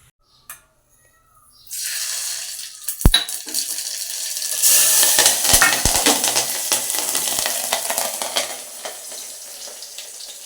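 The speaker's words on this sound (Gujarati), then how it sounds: "સરસ મજાનો જો તડકો આપણે દઈ દીધો છે" Mustard seeds sizzle in hot oil for a tadka tempering while making Gujarati dhokla: a sudden loud crackling hiss starts after a near-silent opening, with a sharp metallic clank and stirring scrapes through the steady frying.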